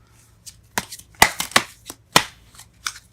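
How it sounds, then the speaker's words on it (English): Tarot cards being shuffled close up, a series of sharp papery riffles and slaps in an irregular rhythm against a quiet background. "Oh, it's not letting me shuffle here."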